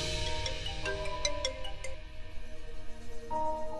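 A mobile phone rings with a steady melodic ringtone during a domestic scene in an Indian television drama, tones repeating over a faint room bed with no one speaking.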